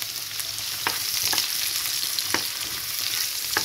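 Chopped onion sizzles loudly in hot oil, a bright steady hiss close by, broken by a few sharp scraping stirs of a spoon against the pan.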